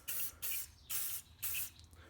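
An aerosol can sprays metallic paint onto a 3D figure in three close, loud hissing bursts, each about half a second long, separated by short pauses.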